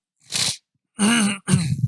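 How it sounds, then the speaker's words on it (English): Someone clears their throat three times in quick succession, harsh rasping bursts close to the microphone with short pauses between. "Clear my throat a little bit."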